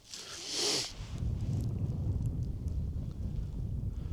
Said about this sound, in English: that wind's just pushing them across